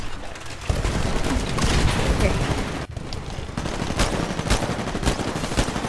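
Rapid gunfire from the video game Titanfall, a dense, continuous stream of shots and blasts filling the whole stretch, with voices talking faintly in the background.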